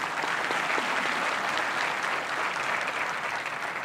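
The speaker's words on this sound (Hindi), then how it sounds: "तालियों तो जोर से बजाओ।" Audience applause at a university convocation ceremony, a loud, sustained roar of many hands clapping evenly throughout, with no voices standing out.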